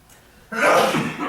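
After a quiet moment, a single sharp, loud sneeze bursts out nearby.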